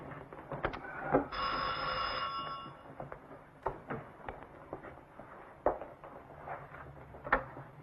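A telephone bell rings in a quiet room in a dramatic film scene, a bright burst lasting about two seconds. Soft knocks and small handling sounds follow in near silence.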